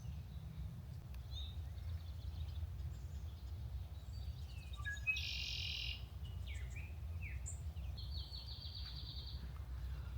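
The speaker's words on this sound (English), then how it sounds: "There's a red-winged blackbird that's circling our camp." Brief, sharp red-winged blackbird calls ring out a few times over a low, steady rumble of outdoor background noise at a camp, fairly faint and spaced apart.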